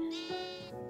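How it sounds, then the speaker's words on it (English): A baby sheep in the Minecraft video game gives one short, clear bleat, quavering and nasal, close and on its own. "Little baby sheep."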